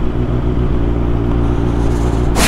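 Motorcycle rolling along in second gear, a steady low rumbling engine with a regular pulsing thrum, close and moderately loud, ending in a sudden burst of wind or hiss.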